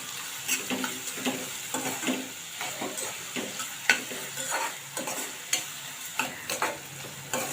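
Chopped onion sautéing in a pan for a vegetable korma, with a steady sizzle broken by repeated scraping stirs at an irregular rhythm. It sits close and clear, with no voices.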